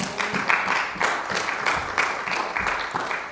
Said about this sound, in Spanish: Dale una ofrenda de palmas a él.